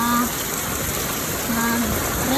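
Strong, windy morning rain falls in a constant loud roar of drops on surfaces, with a few faint tonal sounds in the background.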